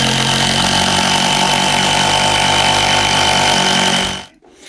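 A power driver sinks screws at a slight angle into roof rafters, fastening them to the wall top plates of a wooden storage shed. One loud, steady whirring run of about four seconds cuts off abruptly into quiet.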